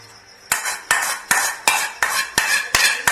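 A spoon scrapes and knocks against a pan while potato and egg bhujia is stirred and fried, giving eight sharp, evenly spaced strokes after a brief quiet start, with no talking.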